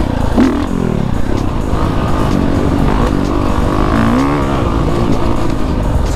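A motorcycle engine drones steadily at speed while riding alongside a train, with a continuous loud rumble and wind noise and a few brief pitch shifts.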